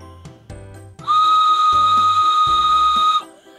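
A wooden four-reed train whistle is blown in one long, loud, breathy steady blast lasting about two seconds, preceded by a few light handling knocks.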